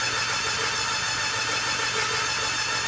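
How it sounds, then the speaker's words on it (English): A Suzuki Hayabusa motorcycle engine, spark plugs removed, cranks over steadily on its starter motor to build oil pressure, a continuous whirring drone heard close and alone for the whole span. "can just get the engine turning over to get some oil pressure"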